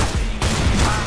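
Shotgun fire in Counter-Strike: Global Offensive, a dense, close burst of gunfire over about a second with two sharp blasts, loud throughout, with no talk over it.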